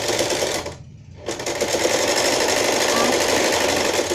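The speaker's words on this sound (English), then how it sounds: "we'll make a top stitch on the elastic" A sewing machine runs a fast, continuous top stitch along the elastic of a fringe pajama, pausing briefly near the start before resuming steadily. A voice talks over the stitching.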